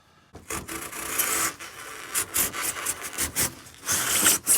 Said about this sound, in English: So now I'm going to sand the concave, sand the flats of the board